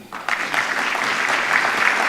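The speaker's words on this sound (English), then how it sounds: "And kindly, can we clap for him?" Audience applause for an alumnus at a hosted event, clapping that starts sparse and quickly builds into a full, even round of many hands continuing for about two seconds.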